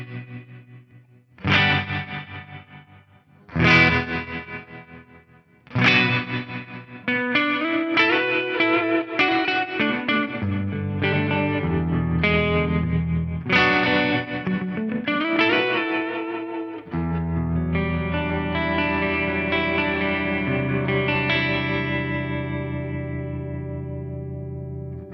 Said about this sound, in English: My dry signal now is not passing through the tremolo at all. Only the reverb trails are going to wobble.